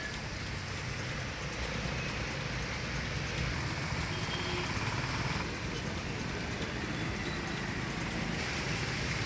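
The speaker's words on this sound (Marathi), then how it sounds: "रत्नागिरी जिल्ह्यातील दापोलीत पावसाचा धुमाकूळ सुरू या अवकाळी पावसामुळे शहरातील सकल भागांमध्ये पाणी साचले" Heavy unseasonal rain falling over Dapoli town in Ratnagiri district, heard as a steady, dense hiss of downpour that holds at an even level throughout, with faint traffic rumble underneath and no voices.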